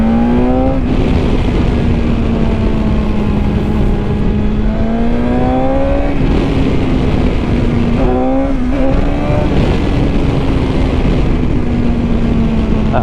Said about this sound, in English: That 1000cc engine coming to life.